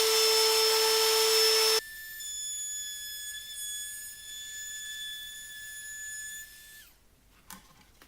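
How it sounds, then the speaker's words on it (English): A wood router rounds off the edges of a wooden bicycle stand part, giving a steady high-pitched motor whine that holds for several seconds after a louder noisy start, then winds down and stops, leaving near silence. "So we'll just hit this with the router, round off the edges."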